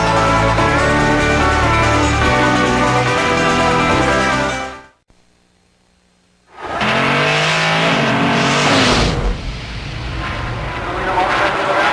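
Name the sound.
NASCAR race cars at Pocono Raceway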